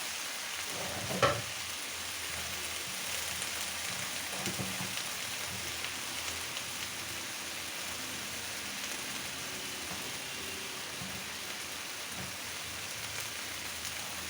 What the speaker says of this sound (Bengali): শুকনা মরিচ আর রসুন দিয়ে বাগার দেবো এখন